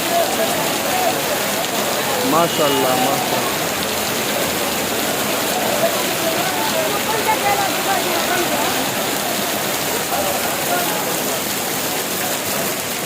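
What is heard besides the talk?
heavy rain falling at a vegetable market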